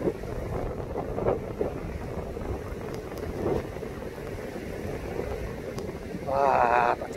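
Typhoon wind and rain at the seashore, a steady blustery roar with crashing water, while someone talks faintly over it.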